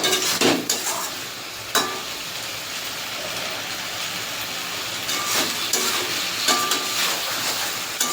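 A taro stem curry with shrimp, coconut and poppy seed paste sizzles in a pan while a spatula scrapes and stirs it in repeated bursts, close and fairly loud.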